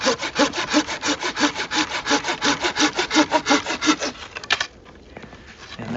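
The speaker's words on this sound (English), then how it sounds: "I'm going to come out about that 3/8 of an inch from that collar, and I can cut my way down." A folding saw cuts through a fruit tree branch during winter pruning, giving steady rhythmic back-and-forth rasping strokes, close and loud, until the cut finishes near the end and leaves quieter rustling.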